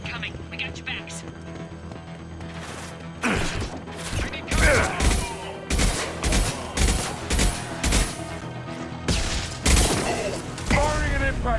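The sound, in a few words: gunfire and impact shot in video game Mass Effect 2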